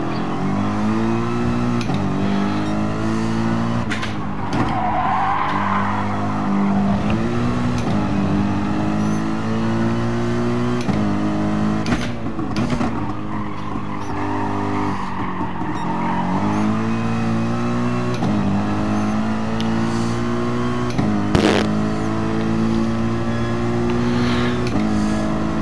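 A race car laps Brands Hatch in Gran Turismo Sport, its engine droning loud and steady with rising and falling revs, downshifts and brief braking bursts, no voices over it.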